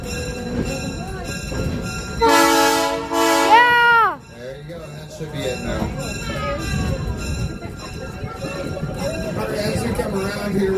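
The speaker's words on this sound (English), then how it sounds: "the locomotive will have to blow its horn" Locomotive at the Green Bay train museum sounding its very loud horn in two strong blasts that bend down in pitch and cut off, followed by rumbling rail noise with people talking nearby.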